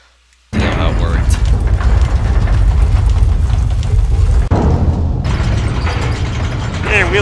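A wheel-and-gear puzzle mechanism cranks in Resident Evil 4, giving a loud, continuous ratcheting and grinding clatter with heavy low rumble. It starts abruptly after a brief silence and runs steadily for about seven seconds.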